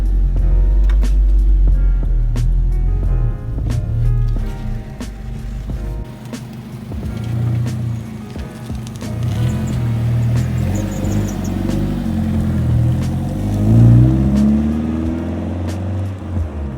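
A Nissan Silvia engine runs steadily nearby with a deep, continuous mid-range hum, rising slightly toward the end, with no talk over it.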